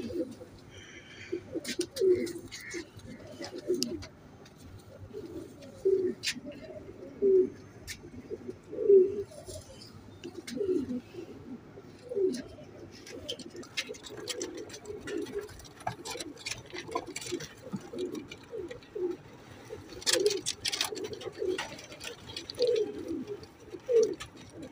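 Teddy pigeons, including golden ones, cooing repeatedly: soft low rolling coos recur steadily at a moderate distance, with occasional higher bird chirps and light background noise.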